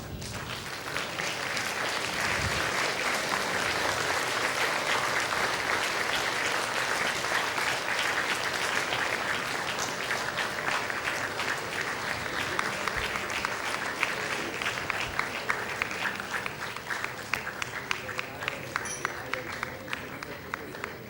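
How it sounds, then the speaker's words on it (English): Sustained, dense applause from an audience standing to welcome the guest of honor at a commemorative lecture and luncheon, steady and loud throughout without letting up. "give him a round of applause"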